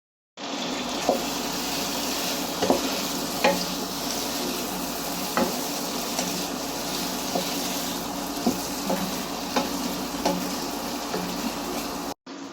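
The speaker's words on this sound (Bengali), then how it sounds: "এখন দিয়ে দিব ভাজা মাংস এখানে।" Fried chicken pieces are stirred into a sizzling spice paste of turmeric, chili, cumin, coriander and garam masala, a steady close frying hiss with regular scraping and clinking strokes of a spatula, no voices.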